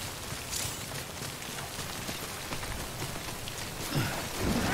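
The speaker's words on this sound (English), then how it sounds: "Just wait out the rain over there." Steady rain hisses and patters across the ground in the video game Death Stranding, with a constant moderate wash of sound and a low rumble swelling toward the end.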